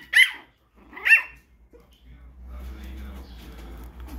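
Chihuahua and toy poodle puppies at a kennel give two sharp, high barks close by, followed by a quieter stretch of soft rustling and faint yips.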